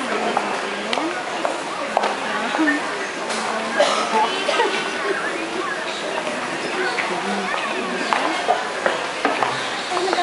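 A drink mix being stirred with rice at a busy mall sampling booth, with soft stirring under constant crowd chatter and nearby voices.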